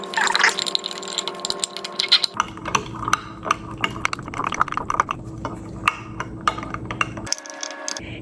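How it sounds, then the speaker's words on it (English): Spoon stirring yeast into warm water in a kitchen bowl, with irregular clinks, scrapes and liquid swishing in short bursts over a low steady hum, fairly close and without talk. "Then you will need 1 tablespoon of yeast. Grab your spoon and mix."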